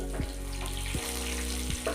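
Cumin, mustard seeds and two dried red chillies crackle and sizzle in hot oil for a chutney tempering, a steady close hiss over a low electrical hum.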